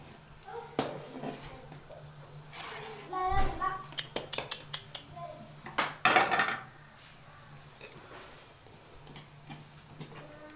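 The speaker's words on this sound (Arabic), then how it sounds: "بقلبها كده على طول وبهدي عليها، بقلبها وبهدي عليها عشان خاطر ايه ما تلزقش" A spoon stirs onions in ghee inside a metal pot, giving soft scraping and clinking of utensil against cookware in quick bursts, with low background noise and a voice speaking at times.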